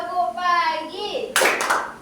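Children in a classroom answer a class clap routine with a short burst of sharp, loud hand claps at the end, right after a rising call chanted by voices.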